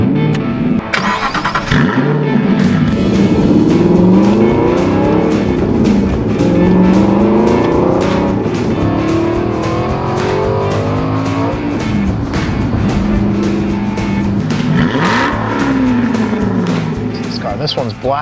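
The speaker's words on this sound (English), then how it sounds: "Today we're driving a 2015 Aston Martin V8 Vantage GT with manual transmission." A 2015 Aston Martin V8 Vantage GT with manual transmission drives with its V8 engine loud and close, revs climbing and falling through gear changes, while someone talks over it almost throughout.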